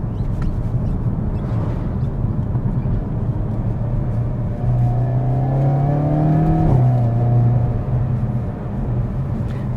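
A Hyundai Kona N SUV's exhaust drones steadily, then rises in pitch as the engine accelerates through a gear, with a brief dip and continued loud whir.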